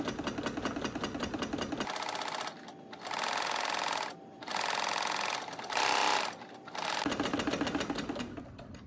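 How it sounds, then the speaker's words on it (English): A sewing machine stitches fabric in a straight line with the presser foot lowered, its needle buzzing in several rapid, steady runs separated by short pauses, loud and close. "lower down your presser foot, and start sewing in a straight line"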